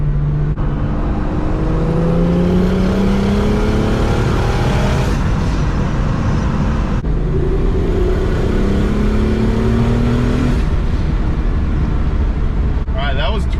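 A 750 whp BMW 135i accelerates hard in 4th gear, its engine roaring loud and steady from close inside the cabin, with a brief dip around a gear change before the pull resumes.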